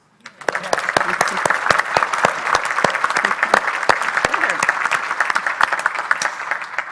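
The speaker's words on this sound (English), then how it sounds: "So I think we should do a round of applause." Audience applause at a university evening of distinction awards event in 2018 starts abruptly and continues as full, even clapping with crisp individual claps on top, filling the room.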